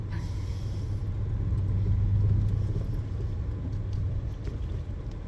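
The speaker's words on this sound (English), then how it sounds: "Drive through the gate." A vehicle rolls slowly through a ranch gate on a dirt road, making a steady low engine rumble and tire noise that stays close and even throughout, with no voices.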